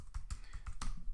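Half a dozen quick, evenly spaced keystrokes on a computer keyboard as a new user password is entered, crisp and close with no voices.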